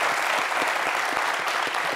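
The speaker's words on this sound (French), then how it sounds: "J'aimerais qu'on applaudisse." Studio audience applause on a French entertainment talk show, dense even clapping throughout, loud and close with no voices over it.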